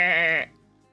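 A single sheep in the zoo game Planet Zoo gives a short, loud bleat lasting under half a second, close and alone, then fades to quiet background.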